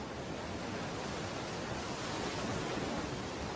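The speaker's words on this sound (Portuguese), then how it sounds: "Fique em contato com o barulho do mar" Sea waves heard as a continuous, broad, hissing wash of surf, steady and fairly loud throughout with no voices over it.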